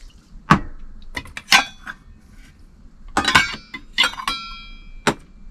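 Parts of a Zebra billy can mini cooking set clink and clatter as they are packed together, metal lid, can and small plates knocking in scattered sharp bursts with short pauses between.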